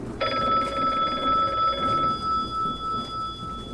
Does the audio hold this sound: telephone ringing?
yes